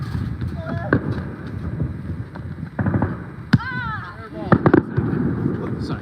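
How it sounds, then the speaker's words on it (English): Fireworks and firecrackers bang and crackle at a Fourth of July celebration, scattered sharp pops and bursts at varying distances over a steady outdoor hum, with a whistling rocket streak and a few louder cracks near the end. "Fireworks."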